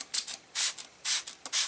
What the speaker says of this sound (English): just take your spray bottle